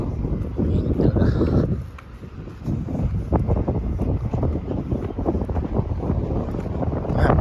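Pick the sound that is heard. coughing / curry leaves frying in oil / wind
wind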